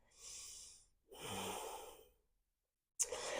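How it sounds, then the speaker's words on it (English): A deep yoga breath during a flow class: a long inhale, a pause, then a long audible exhale, close and quiet, followed by a brief sharp sound at the end. "Take a big breath."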